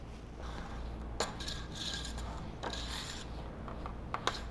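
A spoon presses and scrapes a cookie crumb crust into a dish for a no-bake Dutch pie, giving soft rubbing and scraping with a few light clinks against the dish, close and steady throughout.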